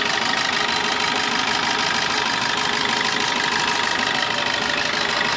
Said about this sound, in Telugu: ఒకసారి ఇంజిన్ ఆఫ్ చేసి మళ్ళీ ఆన్ చేపిస్తాను చూడండి